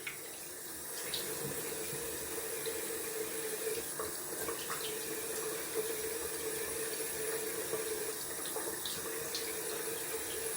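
Cold water runs steadily from a bathroom tap into a sink during a wet shave, a continuous close splashing hiss lasting throughout with no talk over it.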